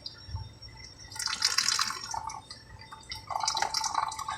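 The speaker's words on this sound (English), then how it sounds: "This thing should sit here and drip all night and all day." Oil dripping from the engine of a 2008 Ford Taurus X with a suspected blown head gasket, heard as scattered close drips and splashes coming in irregular bursts.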